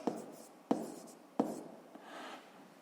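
Pen strokes scratch across paper while a sixth-grade math problem is worked out, three quick sharp taps and scribbles close up and quiet, with no talk heard.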